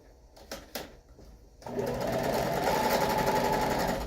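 A sewing machine stitches a fabric mat, starting with a few light clicks and taps, then running into a steady, loud mechanical whir of rapid stitching that holds to the end.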